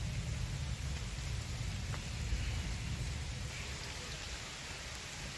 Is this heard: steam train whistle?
no